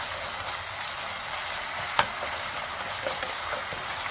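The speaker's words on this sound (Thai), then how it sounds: "รีบใช้ตะหลิวนะคะ คนเลย" Spatula stirring a vegetarian tofu sauce in a frying pan, with a steady, close sizzle throughout and a single sharp scrape of the utensil midway.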